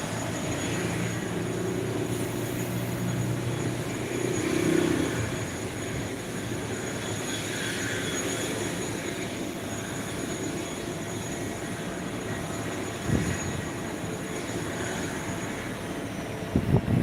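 A Qatar Airways airliner at Phuket International Airport gives a steady, distant jet roar that swells briefly, with no voices over it.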